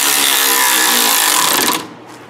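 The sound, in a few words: tool tightening a flex pipe exhaust clamp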